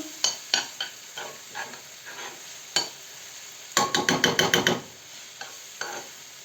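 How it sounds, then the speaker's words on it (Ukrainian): A utensil scrapes and stirs flour into a sizzling pan with irregular strokes, then a quick burst of rapid scraping, over a faint sizzle. "Так само це розмішую."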